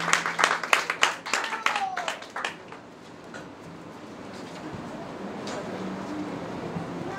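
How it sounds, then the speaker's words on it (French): Clapping breaks out at a beauty institute graduation ceremony as an audience applauds a graduate, dense and strong for the first few seconds, then thinning into a murmur of crowd noise and scattered voices. "Applaudissez-la très fort, mesdames et messieurs"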